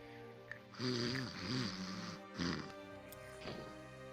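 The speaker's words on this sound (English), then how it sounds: "Guardsman, did you just snore?" A guardsman snoring, a few drawn-out, rumbling snore breaths close by, with a quieter snort near the end.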